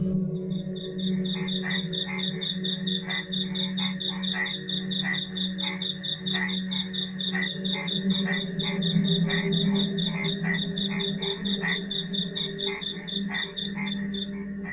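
Frogs croak at night in a rice paddy, a rapid steady train of sharp pulsing calls repeating throughout, with a continuous lower drone of other frogs and insects beneath.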